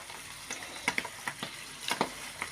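Mushrooms fry in butter in a pan, giving a soft, steady sizzle broken by frequent light crackles and pops.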